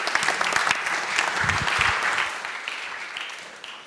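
An audience at an innovation opening ceremony breaks into a burst of applause as a guest is called to the stage, many hands clapping steadily before gradually tapering off.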